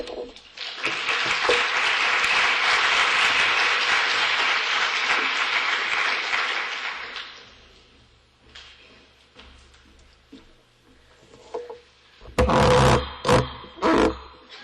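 Audience applause welcoming new colleague Julie Stewart at an academic talk: a loud, sustained burst of clapping for about seven seconds that fades out, followed by quieter stage sounds and a few sharp knocks near the end.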